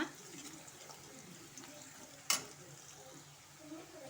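Onions sautéing in a pan, a faint steady sizzle and stirring with one sharp clink of a utensil partway through.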